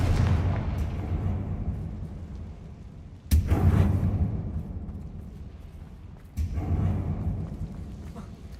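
Confringo fire spell blasts in the Hogwarts Legacy video game, with two booming explosive bursts, one at about three seconds and one at about six and a half, each rising over a dense low rumble of ongoing combat.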